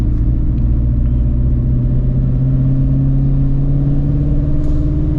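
A manual-transmission car engine drones loud and near with a steady low rumble, its pitch easing and shifting as gears are changed around 2,000 to 2,500 RPM, with no voices.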